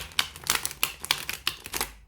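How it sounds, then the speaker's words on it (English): A tarot card deck riffles quickly through the hands in a close, crisp run of papery flicks and snaps lasting about two seconds, with no voices. "quite easy to shuffle, glides through"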